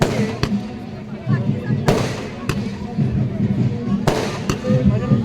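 Fireworks bursting high over Babughat in Kolkata during Dev Dipawali, sharp loud booms at irregular intervals, several distinct cracks over a constant crowd murmur and rumble.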